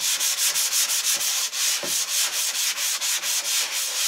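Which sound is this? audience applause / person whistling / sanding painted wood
sanding painted wood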